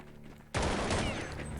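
Gunfire in the video game Counter-Strike 1.6, a sudden loud burst of rapid shots that cuts in after a quiet start and rings on as a dense, sustained volley.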